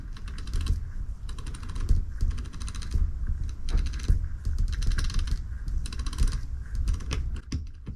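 Pawls inside a Bafang e-bike motor click in rapid, dense bursts as they engage, a steady close mechanical ratcheting that runs throughout with no talk.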